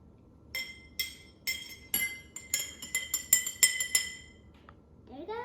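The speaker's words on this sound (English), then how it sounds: "Now it's time to mix. I got a spoon to mix." A metal spoon stirs blue-coloured water in a drinking glass, ringing out in a string of bright clinks that quicken into a rapid tinkling burst before a final scrape, close up.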